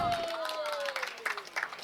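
A crowd at a bowling alley cheers and claps briefly after a shot, with scattered applause and raised voices under a sliding, whooping call.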